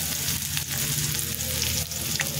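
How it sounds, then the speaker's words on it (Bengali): Onions frying in a pan for keema chana masala, a dense continuous sizzle with light stirring scrapes, close and steady throughout. "পেঁয়াজটা লাল লাল করে ভাজা হয়ে গেছে।"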